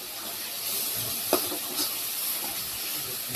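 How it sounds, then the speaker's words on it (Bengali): Spices sizzling and frying in a hot pan, a constant close hiss with a few sharp stirring scrapes and spatters breaking through. "আর এই কাজে মশলাও কষাইতেছি।"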